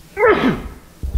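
A single short, sharp sneeze bursts out in a quiet meeting room, followed by faint rustling.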